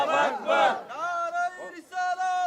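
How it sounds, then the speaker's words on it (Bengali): Crowd at a Bengali Islamic sermon gathering shouting a takbir in response, loud massed voices in two strong chanted bursts followed by a more sustained, tonal chant, close and ringing. "বাবা তোকে একটা তাকবীর দাও"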